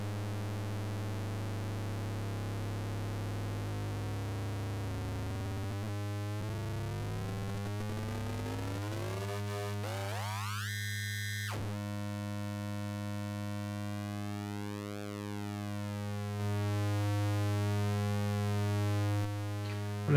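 Dreadbox Dysphonia synthesizer with its LFO pushed into audio rates, a continuous buzzing tone that sweeps and morphs into metallic, shifting modulated timbres, steady and moderately quiet with no talking.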